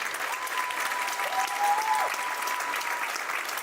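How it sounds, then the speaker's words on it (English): Applause from a venue audience at the end of a livestreamed show, steady moderately distant clapping from a crowd lasting the whole stretch, with faint voices underneath. "And of course, the final applause for the people up top."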